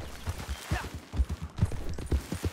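Gunshots in the video game Red Dead Redemption 2 ring out as a rapid, uneven series of close, punchy bangs mixed with hoof-like thuds and movement noise.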